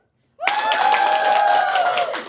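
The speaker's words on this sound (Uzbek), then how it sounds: "Qani mening qarsagim?" A seated audience at a leadership seminar bursts into loud, sustained applause lasting about two seconds, with a held vocal tone riding over the dense clapping.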